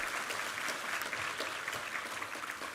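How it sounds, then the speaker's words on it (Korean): A church congregation claps together during a Sunday service, a continuous even patter of many hands at moderate distance, with no talking over it. "우리 하나님께 감사와 영광의 박수 올려드리겠습니다."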